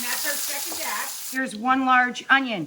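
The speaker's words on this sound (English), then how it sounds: "you can hear the chicken in the background sizzling away in the pan" Chicken frying in a pan, a bright hissing sizzle that runs steadily beneath someone talking, fading slightly as her speech takes over.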